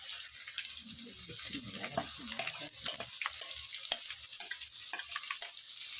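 Ginger garlic paste roasting with lightly browned onions in a pan for spicy chicken and capsicum, a steady sizzle with scraping stirring strokes throughout.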